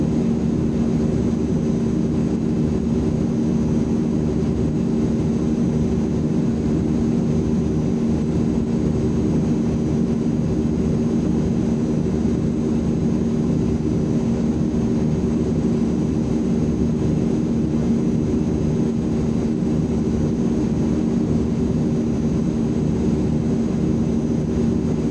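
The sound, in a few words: Azurpoly C-160 aircraft engines in Microsoft Flight Simulator 2020 video game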